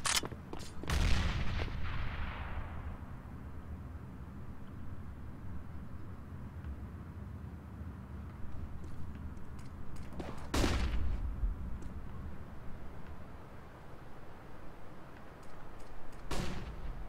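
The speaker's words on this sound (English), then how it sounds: "I'm throwing a grenade" In a video game, a grenade blast bursts and rings out at the start, followed by a long low rumble and two more sharp gunfire cracks later, with no talking.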